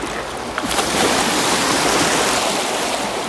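Big rolling ocean wave breaking close by, a loud sustained wash of surf and spray that swells after a quiet start and roars steadily to the end, with no talking.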